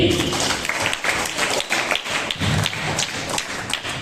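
Audience at a school seminar clapping loudly as soldiers in military dress come forward, a dense, continuous patter of many hands close by, uneven in intensity throughout.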